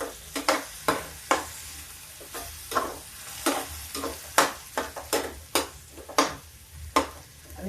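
Masala sizzles and crackles in a hot pan after water is added, for baingan bharta, with repeated bursts of stirring and popping, close and fairly loud, no voices.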